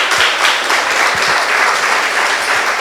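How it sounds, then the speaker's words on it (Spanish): Loud, dense applause from an audience at a children's book project launch event, steady and continuous throughout with no talk over it. "Un aplauso."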